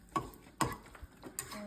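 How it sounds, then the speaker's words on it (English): A spatula mixes shark ingredients in a pan, giving a few distinct, soft scraping clicks close up at an irregular pace. "Let's mix it all together."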